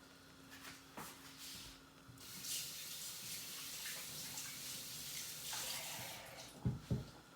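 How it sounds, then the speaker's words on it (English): Tap water runs quietly into a kitchen sink while a spatula is rinsed, a soft steady splashing stream with a few clinks and knocks toward the end. "I just washed off my spatula."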